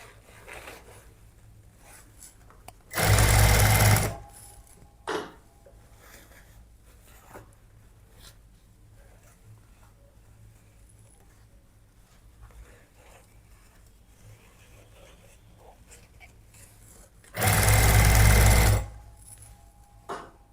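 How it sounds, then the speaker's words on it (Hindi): A sewing machine stitches the side seam of a cancan petticoat in two loud, steady runs of about a second each, separated by long quiet stretches of faint room noise. "इस तरह से इक्वल पकड़ते जाएंगे और सिलाई लगाते जाएंगे।"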